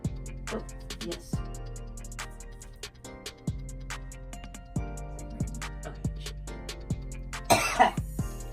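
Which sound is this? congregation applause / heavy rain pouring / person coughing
person coughing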